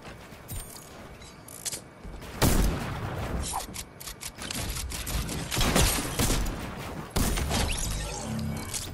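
Rapid gunfire in a platform video game, dense repeated shots and mechanical clatter running nearly continuously, loud and busy with several heavier bursts.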